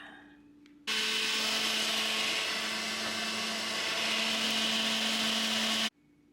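A blender runs at full speed, making green juice from organic lemon and ginger, with a loud, steady whir that starts abruptly and stops abruptly after about five seconds.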